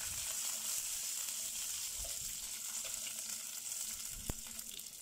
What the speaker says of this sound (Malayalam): നെയ്യ് ചൂടായാൽ അതിലേക്ക് അണ്ടിപ്പരിപ്പും മുന്തിരി ഇട്ടിട്ട് വറുക്കാം